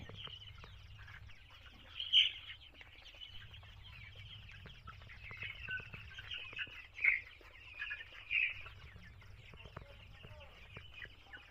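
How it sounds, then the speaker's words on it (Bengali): Fayoumi chickens on a Jamalpur poultry farm cluck and call intermittently while feeding, a few louder squawks standing out over a steady low farm hum. "মুরগিগুলো কিভাবে খাচ্ছে"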